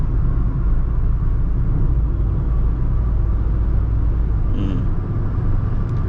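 Inside a Tata Altroz DCA hatchback pulling out to overtake on a highway at around 90 km/h, a loud, steady engine and road rumble fills the cabin, holding constant without a clear rise in revs, no voices heard.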